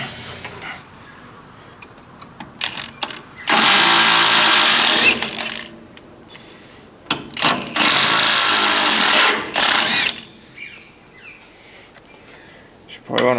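Truck bolts being released, likely with an impact gun and socket: two long loud rattling bursts of several seconds each, with clanks and short tool chatter around them, under intermittent talk.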